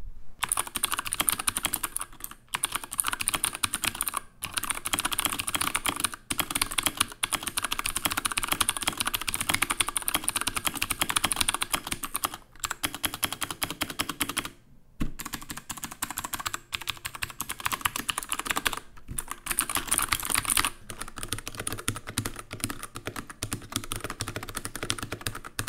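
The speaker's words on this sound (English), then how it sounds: "And here's what the keyboard sounds like." Rapid mechanical keyboard typing on a Xiaomi Yuemi MK01B gaming keyboard, a dense run of crisp clacky keystrokes heard up close, with a few brief pauses between bursts and no talking.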